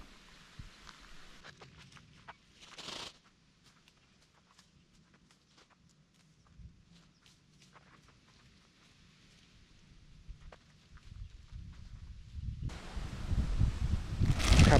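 Wind-driven rain gusts sweep over a rural Thai countryside spot during outdoor foraging, with leaves rustling; a steady patter builds into a loud, roaring downpour toward the end.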